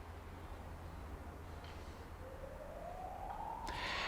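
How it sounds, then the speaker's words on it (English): Distant sirens wail faintly outdoors, one rising tone sweeping upward through the last seconds over a low rumbling city noise floor, quiet and far away. "There is some noise around with some sirens"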